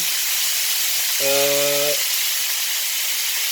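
Bacon fries in a pan, a steady close hiss of sizzling fat throughout, with a short tonal buzz or hum briefly cutting across the middle.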